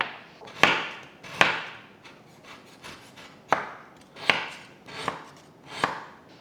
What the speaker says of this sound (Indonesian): sambil nunggu minyaknya panas, gue mau sisir dulu si gula merahnya